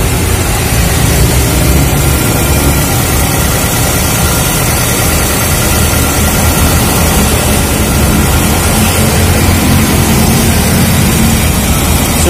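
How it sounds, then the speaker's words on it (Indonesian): A 1995 Toyota Starlet with a 1300cc engine runs steadily at idle, a continuous close, loud low rumble and hum with no breaks and no voices. "Nah, ini suara mesinnya, nyaring nggak terdengar ya."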